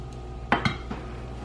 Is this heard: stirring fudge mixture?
yes